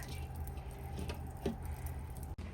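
Soft, faint drips of water falling from straining curd in a quiet room, a few irregular plinks over low background hum.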